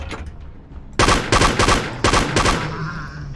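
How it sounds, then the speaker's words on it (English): Loud bursts of gunfire in the first-person shooter Terror Lab, made with FPS Creator, fire in rapid strings after a quiet moment, then trail off into a fading echo. "I'm going to shoot him"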